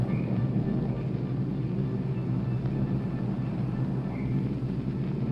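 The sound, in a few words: old airplane engines humming in the video game Oxenfree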